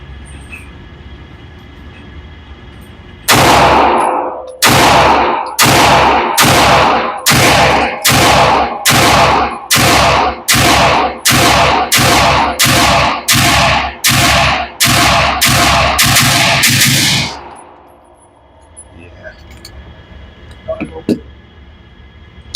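A MAC9 DS Comp pistol fired at targets on a range, about fourteen sharp, loud shots in a quick, fairly even rhythm, followed by a short pause and a couple of faint knocks.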